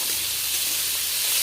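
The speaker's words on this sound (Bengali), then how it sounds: "আমি কুন্দুলি ভাজাটা দেখছি, প্রায় ভাজা হয়ে এসছে।" Home-grown kundri (ivy gourd) fries in a pan with a steady, close hiss of sizzling oil, unbroken and even across the whole short stretch, with no voices.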